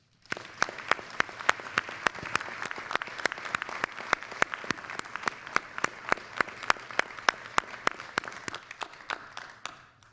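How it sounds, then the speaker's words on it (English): An audience at a Bolingbrook village board meeting applauds during a police department recognition. The clapping is steady and evenly paced, holds for about ten seconds, and then fades out with no voices over it. "Let's please give Logan a big round of applause."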